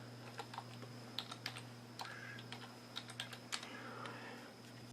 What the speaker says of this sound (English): oh, I'm typing on the wrong keyboard.